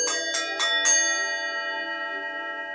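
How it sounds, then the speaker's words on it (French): A bell struck four times in quick succession, each strike ringing out and then leaving a long, clear, sustained hum that slowly fades. "les 24 coups de cloche"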